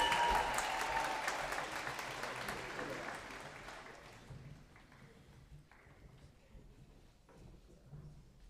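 Applause from an audience at a school senior awards celebration, loud at first and then fading gradually into scattered claps and a quiet room.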